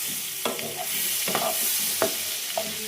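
Paneer frying lightly in butter in a pan, a steady soft sizzle with a few stirring scrapes and clinks, heard up close without talk.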